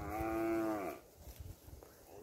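Cattle on a farm during an evening graze give one long, loud moo that fades out after about a second, then quieter rustling and scattered soft thuds follow, with no talk.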